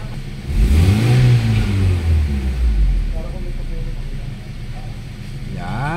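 A Mitsubishi Lancer with a 4G92 engine, suffering black smoke and heavy misfiring, revs up loudly and close, its pitch sweeping up and then dropping back to a rough idle. A few brief voices are heard near the end.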